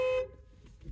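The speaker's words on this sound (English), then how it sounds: "Honk the horn at her." A single short car horn toot cuts off abruptly, followed by a quiet idling hum.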